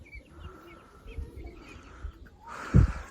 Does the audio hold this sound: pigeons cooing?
yes